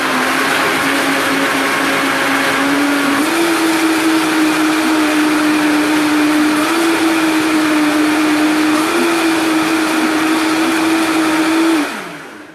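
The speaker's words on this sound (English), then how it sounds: "what's really cool about the Vitamix blender too, especially this model, is it has the plunger" A Vitamix blender runs a smoothie at full power, a loud steady motor whine with small pitch shifts that holds for about twelve seconds before spinning down and stopping.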